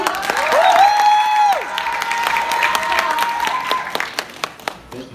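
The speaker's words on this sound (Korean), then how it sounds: "큰 박수로 맞아주십시오" Audience at a jazz masterclass applauding to welcome a guest translator, steady clapping under a sustained whooping cheer, tapering into a few scattered claps.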